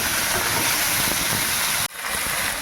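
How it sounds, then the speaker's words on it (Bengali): Sliced okra, pumpkin and hog plum fry in hot oil in a pan for a sour fish curry, giving a steady loud sizzling hiss that cuts off briefly near the end and then resumes. "নেড়ে ছেড়ে ভালো করে একটুখানি ভেজে নেবো হালকা করে"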